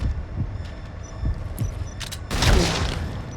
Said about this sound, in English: Despite those loud gunshots.